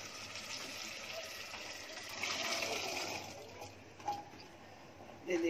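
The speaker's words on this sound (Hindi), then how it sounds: "ये मिक्सी धो के थोड़ा सा पानी डालिए" Water is poured into a freshly rinsed mixer jar while making chickpea ragda with tamarind pulp, a steady gushing pour that swells midway, ending with a few small clatters.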